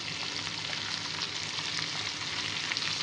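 Cauliflower pieces frying in a mustard-seed tempering give off a bright, even sizzle with fine crackles, steady and close for a few seconds with no speech.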